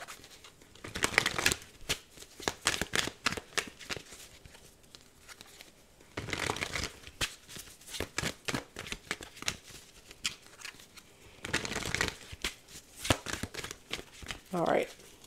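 A deck of tarot cards is shuffled in three distinct bursts of quick riffling flutter, close and quiet, separated by softer handling noises.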